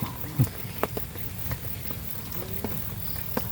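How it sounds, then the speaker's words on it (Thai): Rain falls steadily at a fishing pond, a soft continuous patter with scattered sharper drops ticking close by, quiet and without talk. "แต่ฝนก็ตกนี่นะสิ"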